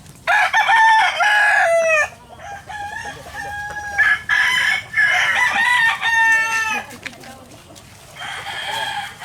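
A seven-month-old Roundhead gamecock rooster crows loudly and close by, several long strained calls in a row with short gaps between them, clear and harsh.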